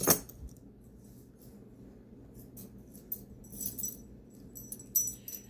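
A set of metal keys handled and jingled, with brief bright clinking bursts scattered over a low, quiet room hum, some jangles louder than others.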